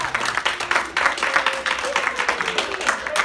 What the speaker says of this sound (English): give one final round of applause to the cast of Don't Quit Your Day Job